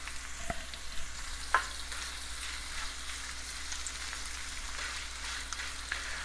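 Curry leaves and translucent onions sauté in a pan with a steady, close crackling sizzle and a few light utensil taps.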